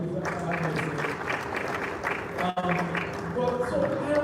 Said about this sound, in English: But clap for Josh, please.